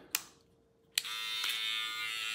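A BaBylissPRO Lithium FX hair trimmer with a gold FX blade clicks on and starts a steady high electric buzz, close up, after a couple of sharp switch clicks.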